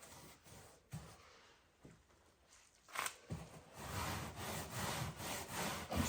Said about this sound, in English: you keep scrubbing until it's clean